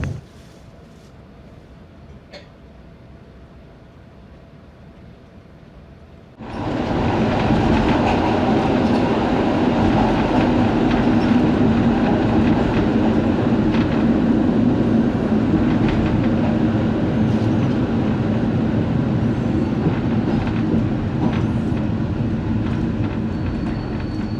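A passenger train rolls along the rails heading from the Lithuanian border toward Suwałki in Poland, a steady loud rumble with rhythmic wheel clatter that starts abruptly after a quieter opening stretch and then holds constant.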